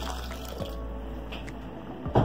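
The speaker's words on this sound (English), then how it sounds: "So I'm adding in some water here again." Water poured into a pot of chicken pelau with vegetables, its rice half cooked, giving a short steady splash and trickle close by, with a brief louder gush at the end.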